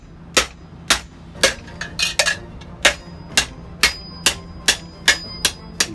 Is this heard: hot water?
no